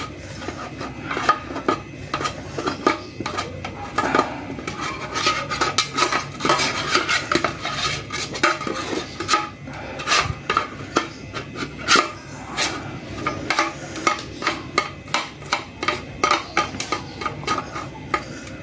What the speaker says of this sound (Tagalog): Tapos brush-brushin lang natin.